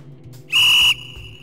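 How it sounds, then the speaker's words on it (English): A lacrosse umpire's whistle gives one loud, steady blast of about half a second at a girls' game, with low background murmur before and after. "The umpire should blow the whistle clearly, loudly, and with authority."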